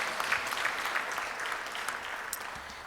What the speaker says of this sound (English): Let's give Bill a round of applause for all of his work through the years